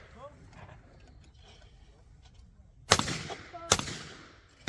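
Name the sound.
shotgun shot at clay target on shooting ground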